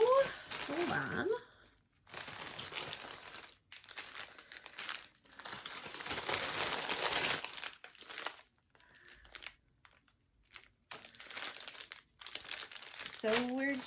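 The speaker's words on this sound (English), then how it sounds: "I'm going to stop crinkling plastic" Plastic makeup packaging crinkles and crackles close to the microphone in several bursts separated by brief silences, with a voice talking at the start and end.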